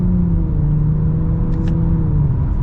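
A 2023 Nissan Rogue Platinum's turbo engine drones steadily and loudly from inside the cabin as its Xtronic CVT upshifts, the engine note easing slightly in pitch without any distinct shift break.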